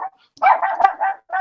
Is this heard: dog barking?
yes